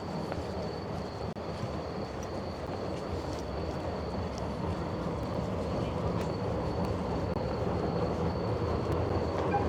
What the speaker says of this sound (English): Choo. Choo choo.